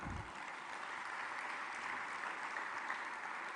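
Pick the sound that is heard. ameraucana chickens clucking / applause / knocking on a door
applause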